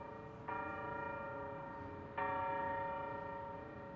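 A bell in the Honkai Star Rail video game sounds twice, each a clear sustained ringing tone that strikes and then slowly fades. The second strike comes about two seconds after the first, over a low background murmur and without talk.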